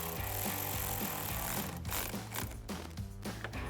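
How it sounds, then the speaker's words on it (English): A 10mm socket wrench tightens a battery terminal on a 2019-2023 RAM 1500, making a rapid, steady ratcheting clatter up close that fills the whole moment without speech. "we'll tighten that back down with that same 10mm socket"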